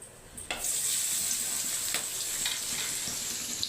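Onions dropped into hot oil already crackling with whole garam masala, dried red chillies and bay leaves, for a katla fish head muri ghonto; a loud sizzling burst erupts near the start, then settles into a steady close frying hiss with faint stirring ticks.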